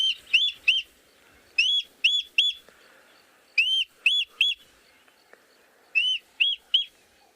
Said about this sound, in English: there's indeed the Gabar goshawk.